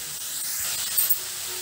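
Grated carrot sizzles in ghee in a pan, a soft continuous hiss of frying with faint stirring scrapes close by.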